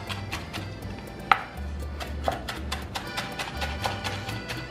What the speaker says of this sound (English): now we're going to chop up cilantro so we can start making the dressing.